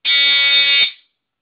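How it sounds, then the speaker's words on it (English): A GE Home Sentry 9-volt battery-operated smoke alarm gives one loud, piercing electronic tone that holds steady for just under a second and then cuts off into silence. "The GE smoke detector, 9-volt battery operated."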